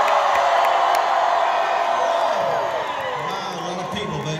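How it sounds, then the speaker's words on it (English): A large crowd at a live Elvis impersonator show screams and cheers loudly and steadily, the roar slowly easing toward the end. "Scream if you're going to have a good time tonight."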